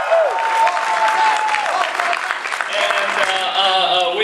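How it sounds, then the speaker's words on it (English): An audience at a fan convention panel claps and cheers loudly, a dense wash of applause with a few whoops and voices rising over it. "Go ahead and applaud!"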